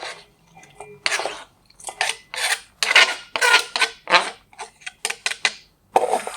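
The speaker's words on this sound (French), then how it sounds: "Et je mélange." Avocado, shrimp and grapefruit salad tossed in a bowl with utensils, giving a run of close, scraping and rustling bursts in irregular rhythm, fairly loud with brief pauses between strokes.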